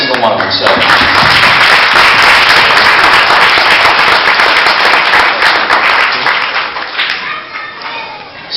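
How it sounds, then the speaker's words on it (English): An audience claps at Omega Apparel's 2014 Christmas party, a dense, loud, sustained round of applause that thins out and fades over the final seconds. "I'd like to get one more applause for every single one of them."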